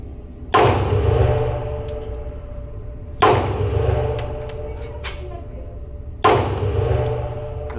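Three loud Springfield Armory Echelon pistol shots fired at a 30-foot range, evenly spaced about three seconds apart, each a sharp crack with a ringing, slowly fading tail.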